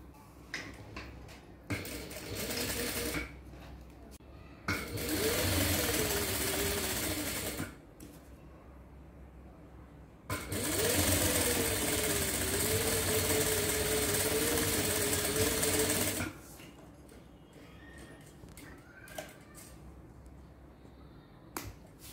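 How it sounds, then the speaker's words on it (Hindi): Sewing machine stitching a fabric sleeve, running in two long loud bursts of steady mechanical whirring with a slight pitch drift, separated by quieter pauses and small handling clicks. "अब हमने ये सिलाई लगानी है"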